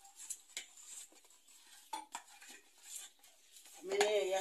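A child clattering dishes and cutlery while preparing food at home, scattered soft clinks and scrapes, faint and close, with a louder clatter at the end.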